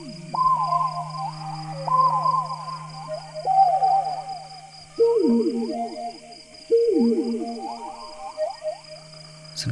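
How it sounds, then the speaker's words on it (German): Repeated descending owl hoots from the video game Proteus, rising in clear phrases over a steady synthesized drone, several calls in sequence with a strong, close, musical tone and no talk. "Sind es die Rufe der Eule,"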